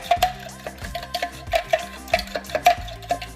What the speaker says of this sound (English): I'm just going to whisk that together with a fork right here